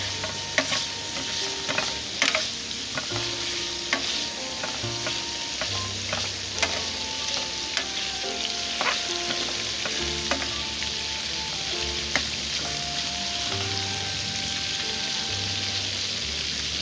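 Goat liver masala frying on a tawa, a steady close sizzle with frequent spatula scrapes and taps, continuous throughout with no talking.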